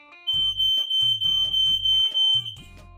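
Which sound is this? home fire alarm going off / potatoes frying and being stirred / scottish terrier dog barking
home fire alarm going off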